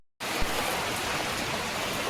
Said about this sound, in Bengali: রান্নাঘরের যে চাল চালের উপরে বৃষ্টি ফোটা ফোটা পড়ছে